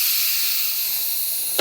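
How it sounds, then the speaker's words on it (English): Steam hisses steadily out of an Instant Pot Mini's release valve after cooking rice, a close, bright, continuous hiss ending with a faint click. "let's let out any remaining steam"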